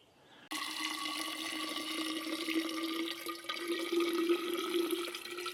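Leftover drinking water is poured into a bottle on a backpacking trip, a steady close trickle that begins abruptly and runs on evenly, with slight rising pitch as the bottle fills.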